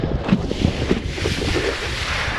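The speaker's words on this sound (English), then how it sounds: "And the wind's not quite in yet" Wind building over open water as a boat rides along, a steady rushing roar with a few low knocks and thumps, no talking.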